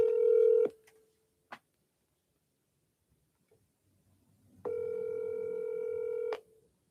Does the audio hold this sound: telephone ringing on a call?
yes